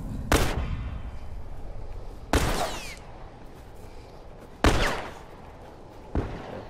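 Gunfire from The Last of Us Remastered, a game: four sharp, loud shots spaced about two seconds apart, each a hard broadband crack with a short decay, over a low steady background rumble.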